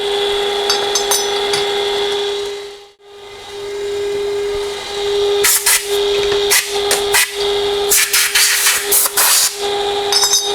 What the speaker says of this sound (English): All right, back to drilling.